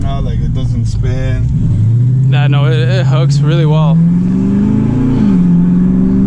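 A cammed Dodge Challenger Scat Pack accelerates, its engine droning steadily and rising in pitch beneath nearly continuous conversation inside the car.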